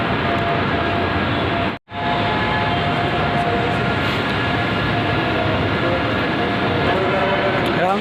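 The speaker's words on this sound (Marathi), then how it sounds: "ट्रेन गेली." A Pune metro train rushes past at a station in a steady, loud roar that swells across the whole stretch.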